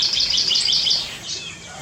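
An oriental magpie-robin sings a quick run of bright, high chirping notes close by, a brief clear phrase fading out after about a second.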